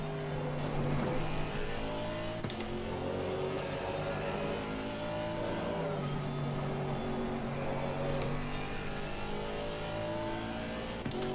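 A GT4 race car engine in Assetto Corsa runs loud and close, with sustained revving that climbs and drops as the car takes corners. Faint voices sit low beneath it.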